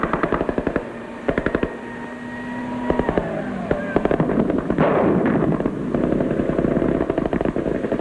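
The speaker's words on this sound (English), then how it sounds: "They get covering fire on this occasion from the armoured cars of the Household Cavalry." Covering gunfire from Household Cavalry armoured cars during a military exercise, loud rapid bursts of automatic fire in repeated rattling volleys, with engine rumble and mechanical whines in between.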